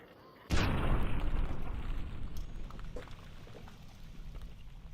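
A video game explosion bursts suddenly with a loud boom, then a rumbling, crackling tail that slowly fades over several seconds.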